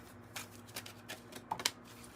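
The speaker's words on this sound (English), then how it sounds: "I was just like shuffling." A deck of tarot cards is shuffled close up, giving soft, quiet riffling and tapping bursts in an irregular rhythm with no talk.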